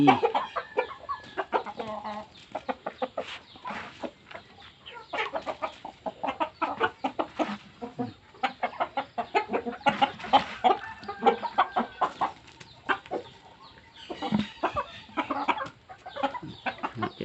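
A flock of chickens clucking steadily while eating chopped Napier grass mixed with feed, a dense near chatter of many short clucks and pecking sounds throughout, with no voices.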